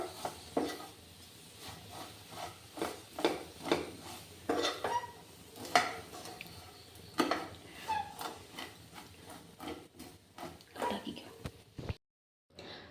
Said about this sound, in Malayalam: നന്നായിട്ട് എല്ലായിടവും ഈ മിൽക്ക് മെയ്ഡ് നന്നായിട്ട് മിക്സ് ആക്കി എടുക്കണം.